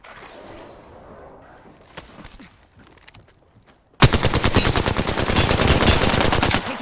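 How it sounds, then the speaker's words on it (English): Rapid automatic gunfire in the video game Apex Legends, loud and close, bursting in suddenly after a quiet stretch of faint movement and sustained as a dense rattling stream to the end. "I'm taking shots"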